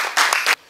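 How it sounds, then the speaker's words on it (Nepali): A short burst of audience applause at a television show, two quick dense surges of clapping lasting under a second, close and loud with no speech. "जोरदार ताली दिउँ र सबैले सघाउँ"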